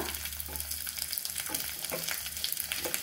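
Mustard seeds and spices sizzle continuously in hot oil for a coconut chutney tempering, with small crackles and pops, loud and close.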